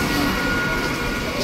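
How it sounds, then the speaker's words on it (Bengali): A train arriving at a station platform, heard as a steady, loud broadband rumble of rolling carriages that fills the whole stretch, with crowd voices faintly mixed in. "ওদিকে ট্রেন আসছে"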